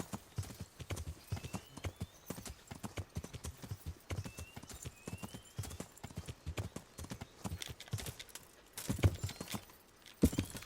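A horse gallops in the medieval video game Kingdom Come: Deliverance, with steady, close clip-clop hoofbeats running throughout and a louder burst near the end.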